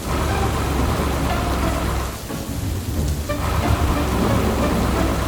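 Heavy rain pours down in a dark cartoon forest, a dense, loud, steady hiss with low rumbling beneath, briefly thinning midway before surging back, with no voices over it.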